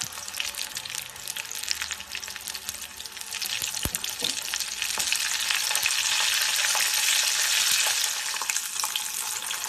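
Tempura-battered soft shell crab sizzles and crackles steadily in hot oil, the frying loud and close, swelling slightly as it goes with a few sharp pops along the way.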